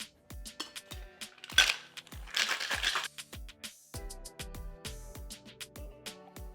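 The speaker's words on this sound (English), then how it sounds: "Put some ice." Ice cubes clatter sharply into a shaker or glass while a peach tequila cocktail is mixed, a string of quick close knocks and rattles with a brief burst of shaking partway through.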